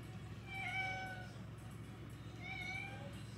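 A woman imitates a cat's meow for a baby. Two faint, drawn-out meows sound about two seconds apart over a low background hum.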